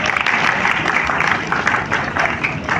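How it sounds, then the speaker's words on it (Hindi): A lecture audience breaks into a short, dense burst of applause, with many hands clapping loudly and evenly for a few seconds. "आगे तालियां हो जाए।"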